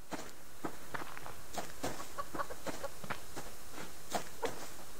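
Chickens cluck in the subsistence survival video game Planted, a steady scatter of short, moderately close clucks and calls repeating over a quiet background.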